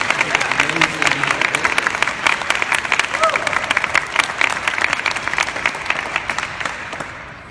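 A large crowd at a press conference applauding steadily, dense continuous clapping that holds even and full before easing slightly at the end.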